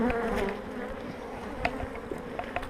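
Honeybees swarm and buzz around an opened spring beehive, a dense, steady drone filling the air close by, with a few sharper wingbeat passes and faint handling clicks.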